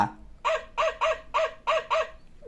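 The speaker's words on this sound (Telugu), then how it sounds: "కుక్క పిల్ల" A toy rabbit phone's electronic puppy barks six times in a quick, steady series of short yaps, close and clear with no talking.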